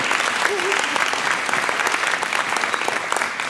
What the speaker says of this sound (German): Alle einen Applaus für Ilan.